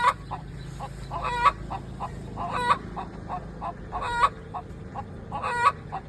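Brown chickens cluck nearby in short repeated bursts, with a few louder, drawn-out calls standing out over a low background rumble.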